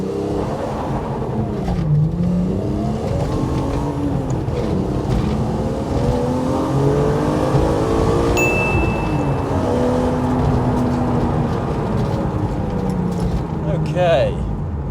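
A BMW E36 M3 accelerates hard through the gears in a 0-60 test, engine note loud and continuous with rising pitch sweeps and brief dips at gear changes.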